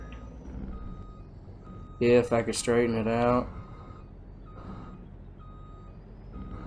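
A truck in Farming Simulator 22 sounds its reversing alarm while backing into a garage, a faint, steady electronic beeping heard beneath someone speaking briefly.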